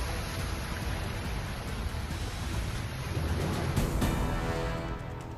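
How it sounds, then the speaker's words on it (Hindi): Heavy rain from Cyclone Ditwah falling in Chennai, a dense, continuous hiss of downpour close by with no voices. "चेन्नई में दितवा तूफान के चलते हो रही है जोरदार बारिश"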